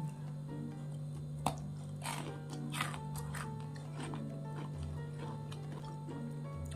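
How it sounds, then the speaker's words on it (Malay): Crunchy almond chocolate cookies bitten and chewed up close, several sharp crunches in a loose rhythm over a low steady hum. "Kerangupan di setiap kunyahan tau."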